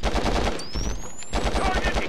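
Rapid automatic gunfire bursts loud and close in the PS2 shooter Conflict: Global Terror, sustained chattering fire with a brief lull in the middle, plus a faint whistling streak overhead.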